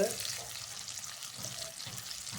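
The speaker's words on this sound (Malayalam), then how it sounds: "ഇനി നമുക്കൊരു ഷാലോ ഫ്രൈ ചെയ്തെടുക്കാം." Pomfret fish shallow-frying in oil in a pan, giving a steady, close hiss of sizzling that holds fairly even throughout.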